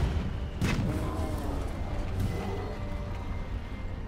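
Cannon fire from a cannonball shot in the video game Monster Hunter World: a heavy boom near the start with a rumbling, busy battle din continuing throughout at steady loudness.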